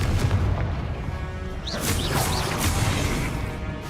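In Hogwarts Legacy, a Confringo blast spell bursts with a booming crash amid a dense game soundscape, accompanied by a few short whooshing, rising magical tones.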